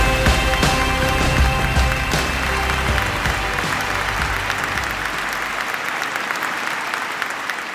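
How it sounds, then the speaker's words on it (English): Large audience applause welcoming AirAsia's Tony Fernandes onto the stage at a formal evening event, loud continuous clapping with some music at first that gradually thins out over nearly eight seconds. "A big round of applause, ladies and gentlemen, to Tun's sweet daughter,"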